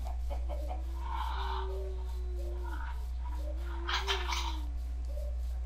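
Chickens in a blocky survival video game cluck in short, bright bursts over a steady low hum, with several scattered calls spread across the stretch.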